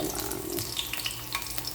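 Garlic fries in hot cooking oil for Filipino garlic fried rice, a steady close crackling sizzle with scattered small pops throughout.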